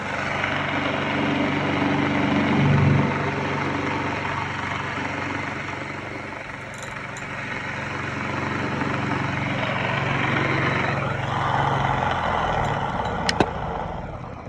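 A small electric motor in a homemade magnetic generator, held between two fingers, whirs steadily and loudly close by for the whole stretch, with a brief bump in pitch early on and a few clicks near the end.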